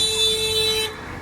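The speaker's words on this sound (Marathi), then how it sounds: "किती हॉर्न मारता." A vehicle horn blares in one steady, loud, close blast on a narrow, crowded market road, then cuts off sharply.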